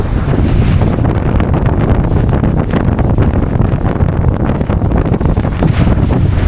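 Strong wind buffets the microphone on a sailboat at sea, with a loud, continuous roar and gusts over the rush of water and waves against the hull.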